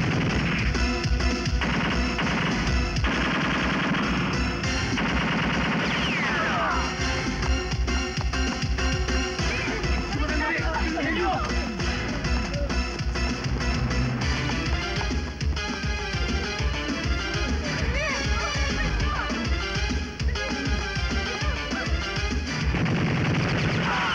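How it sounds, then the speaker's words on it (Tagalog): Dense gunfire rattles through a 1992 Filipino action movie shootout, with rapid bursts, sharp shots and crashes piling up continuously and loudly for the whole stretch. "pinaliliguan ako ng bala rito."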